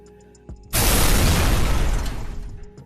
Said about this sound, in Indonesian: Ledakan keras terjadi